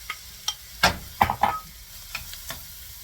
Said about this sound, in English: I'm going to just saute these until the onions start to get a little clear